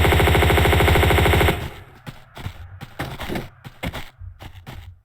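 Rapid loud gunfire from shotgun snipers in the video game Tomb Raider II, a dense burst of shots that cuts off, then scattered sharper shots and impacts at varying distances.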